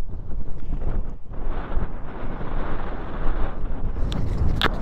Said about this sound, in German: Ja, der Wind wird immer kräftiger jetzt.